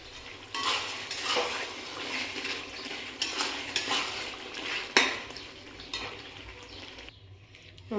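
A spoon scrapes and stirs mutton liver with ground garam masala in a pan, with steady clinks and scraping strokes at moderate level and no voices.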